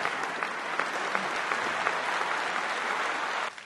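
A concert audience at a Timișoara gala applauds the artists on stage with steady, dense clapping that holds even throughout and then drops off abruptly near the end.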